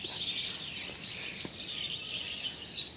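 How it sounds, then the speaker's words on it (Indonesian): Many small birds chirp and twitter continuously in a garden on a morning of fruit picking, a dense high chorus with a few sharper calls standing out, steady and moderately close. "Ramai banget ya burungnya."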